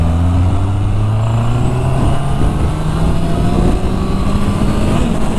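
Honda CB650R motorcycle riding at speed, its engine droning loud and steady as the pitch climbs gradually under acceleration, blended with heavy wind rush, with no talk.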